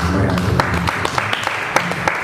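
A church youth congregation gives brief applause, scattered claps ringing out over a low murmur of voices and fading into separate isolated hand claps.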